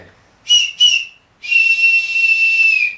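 A man imitates a steam locomotive whistle with his mouth, giving two short shrill blasts and then one long sustained wail, loud and close with no talking.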